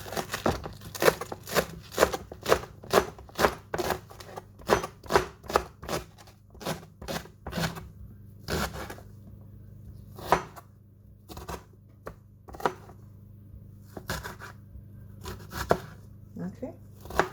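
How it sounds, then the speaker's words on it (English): A knife chops green onions sharply on a board in quick irregular bursts of taps, with short pauses between runs and a low hum in the background. "First of all, I'm going to be chopping my green onions."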